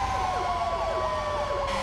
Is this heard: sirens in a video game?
yes